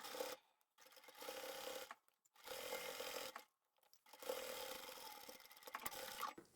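A sewing machine double-stitching upholstery fabric with Gutermann sew-all thread, running in three close bursts of rapid mechanical whirring separated by brief pauses.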